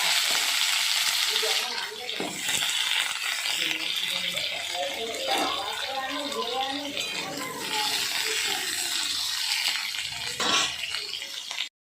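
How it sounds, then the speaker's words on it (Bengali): Potatoes sizzle and crackle in hot oil, a steady frying hiss with occasional stirring sounds, continuing for several seconds without talk. "এবারে ওই তেলে আবার আমি আলুগুলোকে ভাজা ভাজা করে নিচ্ছি"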